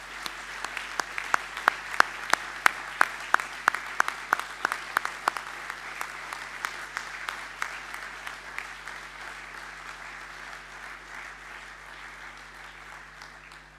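An audience at a school speech day gives a round of applause for an award winner: many sharp, distinct claps in a steady rhythm that build into a sustained wash and then slowly thin out.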